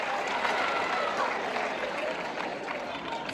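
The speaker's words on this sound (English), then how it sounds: "Nice round of applause." Steady applause from students at a school drug-awareness assembly, a soft, diffuse wash of many hands clapping at a distance in a large hall, holding evenly throughout.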